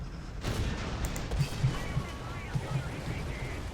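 Tank gunfire in the War Thunder video game, several low booms and thuds scattered over a few seconds under a busy battle noise bed.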